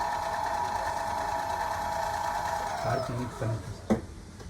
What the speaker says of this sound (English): Now I will perform another experiment in which I will run this motor and show you how the brake is working.